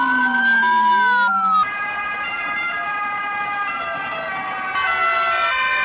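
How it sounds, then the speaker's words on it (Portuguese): Loud ambulance sirens wail continuously, with several overlapping rising and falling tones that swap pitch partway through. No voices are present. "sirenes de ambulâncias em todos os países da terra."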